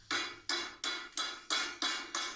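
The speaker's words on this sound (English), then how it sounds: "Hammering away at your meat is quite an easy thing to do with one of these hammers." A meat hammer pounds pork chops with seven evenly spaced, sharp thuds at a steady rhythm, close and fairly loud, with no talk.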